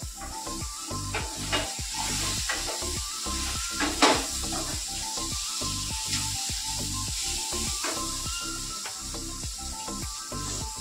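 Cauliflower stalks being stir-fried in a pan for a Bengali chorchori, with steady sizzling and hiss under repeated rhythmic scraping and clinks of the spatula, close and continuous, no voices.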